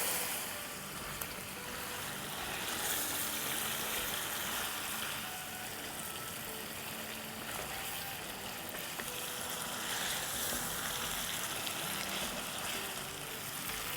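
Aloo palak gosht frying steadily in a pan with a spoonful of water, a dense continuous sizzle and crackle running unbroken from start to finish, with no talking.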